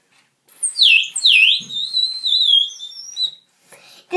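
A water-filled bird whistle blown loudly at close range, giving warbling, trilling chirps that sound like birdsong, running for about three seconds before stopping.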